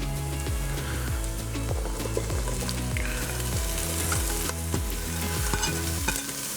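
Peppers added to softening onions frying in a pan for moose chili, a loud continuous sizzle with repeated scraping stirs in a steady rhythm, close up and without talking.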